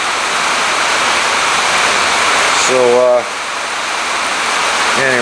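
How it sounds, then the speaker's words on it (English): Steady, loud rain pours down outdoors on a chilly day in Oregon, a dense continuous hiss; a voice cuts in briefly near the end. "Oregon rain is not warm."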